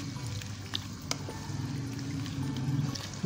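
Half a cup of milk poured into chicken white karahi cooking over a low flame, a soft, steady liquid pour and trickle, close and continuous for a few seconds.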